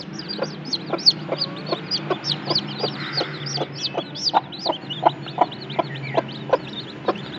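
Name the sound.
hen clucking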